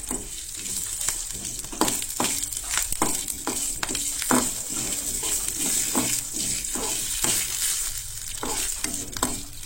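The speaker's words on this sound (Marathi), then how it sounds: "तूप घातले काय मागीर सगळे खडे मसाले जे आसा ते हांगसर एड करा" Whole spices sizzle and fry in hot ghee for a veg pulao, with steady crackling and repeated scraping stir strokes of a spoon against the pan, close and continuous throughout.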